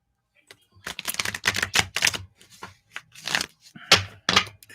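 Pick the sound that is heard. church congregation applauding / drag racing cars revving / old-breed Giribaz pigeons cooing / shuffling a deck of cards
shuffling a deck of cards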